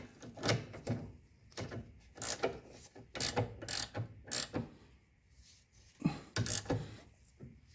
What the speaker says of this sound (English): It holds it from spinning so you can tighten it down.